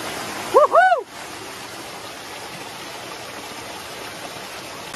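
Clear mountain stream water flows steadily on a hillside country property, a constant close rushing wash that stays even throughout, with a brief whoop of a voice over it at the start.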